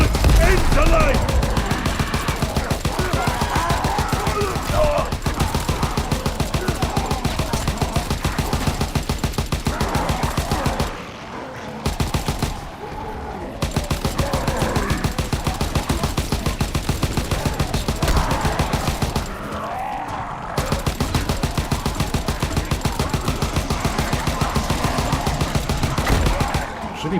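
Sustained rapid automatic gunfire from a weapon in a zombie video game rattles on almost without pause, loud and close, broken by a couple of brief gaps, with a voice talking intermittently over it.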